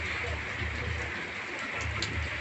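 Rain falls steadily and hard in a village, making an even, continuous hiss of drops with no pauses and no talk over it.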